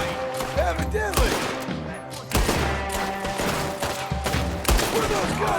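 Gunfire erupts in a video game shootout, with loud close bursts of rapid shots in several volleys separated by short pauses, alongside game sound effects and a voice speaking in between.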